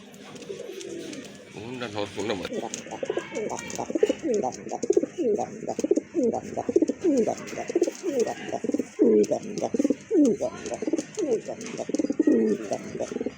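Large pigeons offered for sale coo in repeated rolling phrases, close and continuous, several birds overlapping in a steady rhythm with talk nearby.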